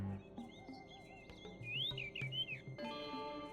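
Stock birdsong from the video game Star Fox Adventures: a bright run of chirps and rising, warbling whistles, moderately loud and alone over a low steady game ambience.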